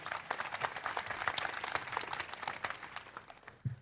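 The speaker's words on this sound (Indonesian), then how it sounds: "Tepuk tangan dulu buat Oki Mandasari" Audience applause for Oki Mandasari at a reform anniversary event, a fairly dense spread of clapping held steady for a few seconds and fading slightly at the end.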